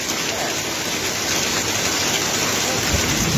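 Heavy rain downpour pours steadily alongside rushing floodwater, a dense, continuous hiss and roar at close range with no clear voices.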